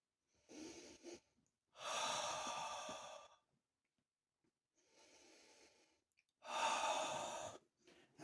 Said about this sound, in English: Let's have a sniff.